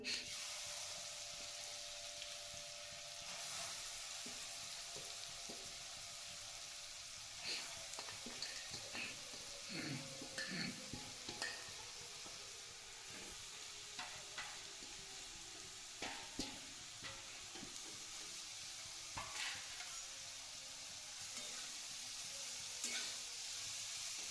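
Grated carrot fries in melted ghee for carrot halwa, a low steady sizzle with intermittent scraping and stirring clatters. No speech is heard.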